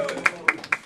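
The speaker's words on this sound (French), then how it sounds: "Bon, c'était Kanima, on peut l'applaudir" A few rhythmic claps from a rap battle audience applauding the rapper Kanima, sparse and close, heard in a brief burst.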